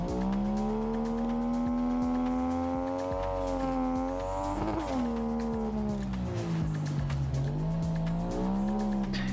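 A car in a driving video game skids with its handbrake pulled, its tires squealing and its engine droning in sweeping, rising and falling tones. The sound is loud and continuous, with no talk.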